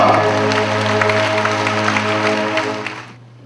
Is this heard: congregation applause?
yes